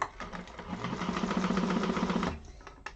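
A sewing machine runs continuously while stitching a fabric seam, a fast, even mechanical whir with rapid needle clatter, close and steady for a couple of seconds before stopping.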